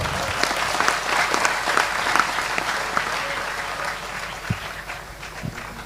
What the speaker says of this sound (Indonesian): Tepuk tangan sekali lagi untuk Sudrun